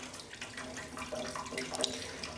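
Water from a hose runs steadily and softly while flushing the radiator of a 2006 Yamaha R6 motorcycle, a continuous hiss and splash with faint trickling and no break.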